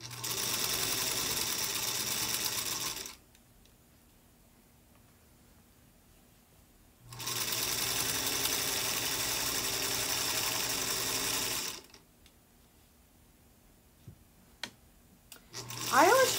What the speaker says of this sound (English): I'm probably gonna start with a couple of little baby stitches, just to make sure that that is a secure flap. And then I'm just going to sew down.